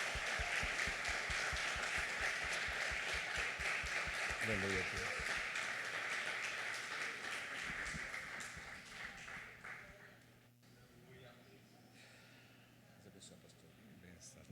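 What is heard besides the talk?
church congregation applauding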